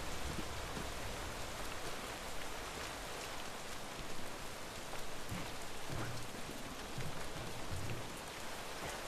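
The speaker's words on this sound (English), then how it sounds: "It's raining hard as shit." Heavy rain pours down in the video game Deadlight, a dense, unbroken hiss of drops on surfaces that stays loud and even throughout, with faint low rumbles beneath and no talking.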